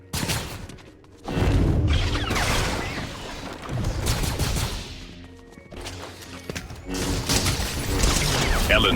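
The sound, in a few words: gunfire in the video game Fortnite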